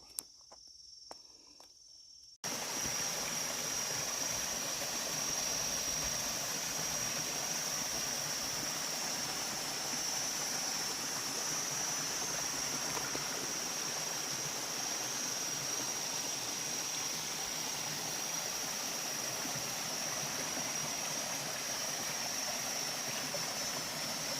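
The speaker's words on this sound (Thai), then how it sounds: "เสียงน้ำตก" A waterfall in a forest gives a steady, even rushing roar that starts abruptly after a brief quiet moment and holds constant, with a thin insect-like whine running above it.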